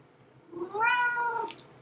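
A cat gives one clear, close meow lasting under a second, rising then falling, in an otherwise quiet room.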